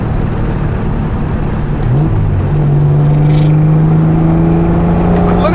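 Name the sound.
1970 Triumph TR6 accelerating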